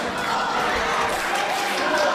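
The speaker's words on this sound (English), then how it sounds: "And you hear this capacity crowd here at the Juniata Civics Association Pavilion, all behind all that Braden Elliott." A capacity crowd fills a pavilion at a wrestling event, a steady dense roar of cheering and chatter that holds at an even loudness throughout with no single voice standing out.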